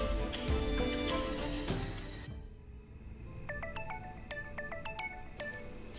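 A phone rings with an incoming call from Darius, a series of repeated bright electronic tone bursts sounding alone and fairly close after a noisy stretch of other sound fades out.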